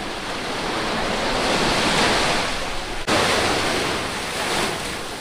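Ocean waves and surf roll in along a rocky shore in Sulu, Philippines, making a loud, continuous rushing wash with wind buffeting the microphone and a brief dip partway through, with no talking.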